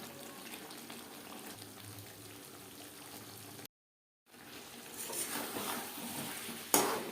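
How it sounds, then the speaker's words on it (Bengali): Potatoes fry with spices in a pan over low-to-medium gas flame, with a steady soft sizzle and occasional scraping stirs, briefly cutting out before the sizzle returns louder with a sharp clink near the end. "মশলার সাথে আলু আরও 4-5 মিনিট রান্না করে নেব"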